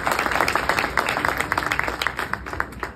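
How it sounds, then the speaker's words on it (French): Audience applause at a dinner for Black entrepreneurs in Lanaudière, a dense patter of clapping from a roomful of people, moderately loud and steady for a few seconds before tapering. "D'applaudissements."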